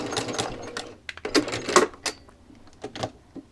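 Close by, a sewing machine stitches a seam through a quilted potholder, with bursts of fast clattering needle action broken by short pauses and sharp clicks.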